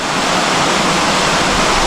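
River water at Blue Hole on the Effort River rushes steadily, a loud, close, unbroken roar of flowing water with no other sounds on top.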